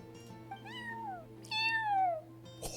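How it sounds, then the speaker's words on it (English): A cat in a video game set in the Sumeru desert gives two clear, rising-then-falling meows a moment apart, close and distinct over a quiet, steady background hum. "Did you hear that meow?"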